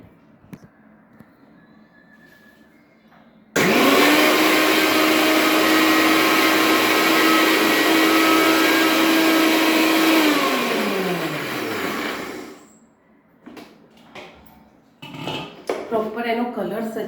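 A blender runs for about nine seconds grinding jamun with milk for a thickshake, a loud steady whirring whine that starts abruptly and winds down as it switches off, with quiet kitchen sounds before and after.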